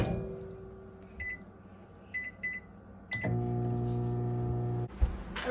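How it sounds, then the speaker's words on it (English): A microwave oven gives a few short keypad beeps, then runs with a steady, close electric hum for about a second and a half before stopping with a soft clunk. "And then you put this in the microwave for 2 minutes."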